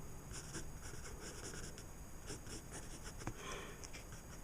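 Pen or pencil strokes scratch across paper while a sea creature is drawn, making soft, repeated short scribbles and strokes at close range with a low background hiss.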